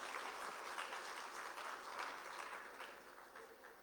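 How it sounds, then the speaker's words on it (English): Faint audience applause at the closing ceremony of Global Expo Botswana 2025, steady clapping heard from a distance that slowly fades toward the end. "I ask for a hands of applause for the team that has done this."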